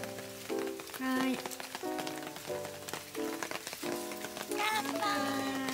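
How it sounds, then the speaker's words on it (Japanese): Heavy rain patters steadily on a tarp over an outdoor glamping barbecue, a continuous crackling wash of drops with voices chatting underneath. "雨がすごい。"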